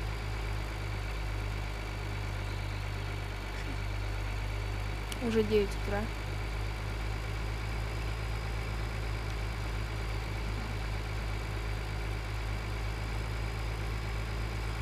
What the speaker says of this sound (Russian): Потому что так играть это капец с этим зеленым трактором.